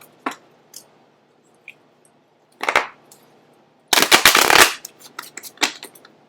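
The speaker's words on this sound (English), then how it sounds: "I'm going to just give the deck 2 shuffles and a cut" A tarot card deck being shuffled and cut, with a few short riffle bursts and one long dense riffle in the middle, close and fairly loud in a quiet room.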